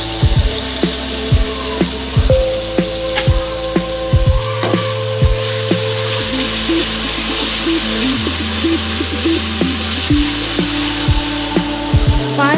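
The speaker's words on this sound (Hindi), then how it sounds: "पाँच मिनट तक अच्छे से भून लेंगे।" Masala with lemon juice and yogurt fries in a pan for beef pulao, giving a close, steady sizzle broken by scraping stir strokes and clinks of the utensil, with no talking.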